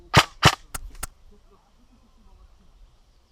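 An airsoft SSR15 rifle fires four quick BB shots at close range, two loud cracks followed by two lighter ones, then quiet outdoor background.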